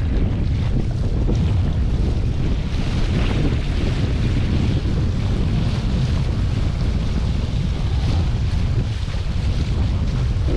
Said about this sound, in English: Oh, big gust of wind.